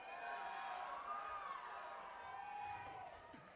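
An audience cheers and whoops in a comedy club, a sustained wash of crowd noise that stays moderately loud for a few seconds before fading slightly.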